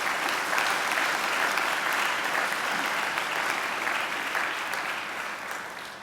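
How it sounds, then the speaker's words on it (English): Sustained applause from a large audience at a university graduation ceremony, a dense steady clapping wash that carries loudly throughout and tapers slightly toward the end. "Let's give her another great round of applause."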